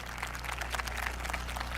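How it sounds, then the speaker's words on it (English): Applause for student speakers at an eighth grade recognition ceremony, a steady wash of many hands clapping fairly faintly over a low constant hum, with no talk over it. "Can we give all of the student speakers another round of applause?"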